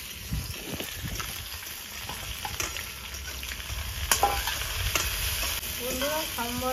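Cumin seeds and dried red chillies roast in a dry pan without oil, giving a close crackle and scraping stir with irregular pops and rattles, no speech.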